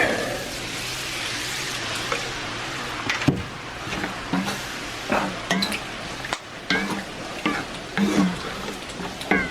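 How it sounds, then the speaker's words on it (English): Milk is stirred into a hot cooking pan while something sizzles, with scattered scrapes and clinks of a utensil against the pan over a constant frying hiss. "Go ahead and stir in the milk."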